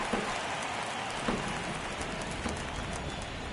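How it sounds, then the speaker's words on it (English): Steady rain hissing in a baseball video game, a constant close downpour with faint scattered taps and no talking. "It feels like we might be headed towards a rain delay if the weather doesn't ease up, Chris."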